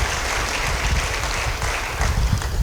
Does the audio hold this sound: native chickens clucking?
no